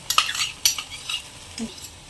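A homemade hair oil mixture being stirred in a pan over a low flame: a few sharp metallic clinks and scrapes of a spoon against the pan, then a soft, faint sizzle, close up and without speech.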